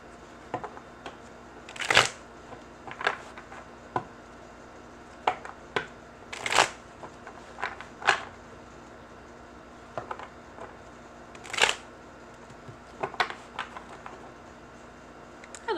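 Tarot cards are shuffled nearby in repeated crisp riffling bursts, a few sharp louder flurries among softer taps and rustles with short gaps between them.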